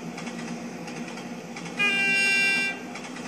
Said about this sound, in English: That's what the horn sounds like when you go outside the train.